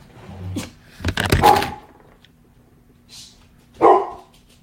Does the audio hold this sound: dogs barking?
yes